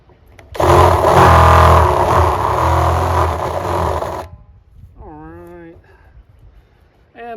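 A power drill drives a screw into a homemade pig waterer, a loud steady whir lasting about four seconds before stopping, followed by a brief voice.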